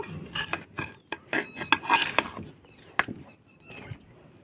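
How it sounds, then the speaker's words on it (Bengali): A tool scrapes and loosens soil along the inside edge of a plant pot, giving a series of short gritty scratches at close range with brief pauses between strokes. "প্রথমে একটু ধার ঘেঁষে মাটিটা খুশে নেব"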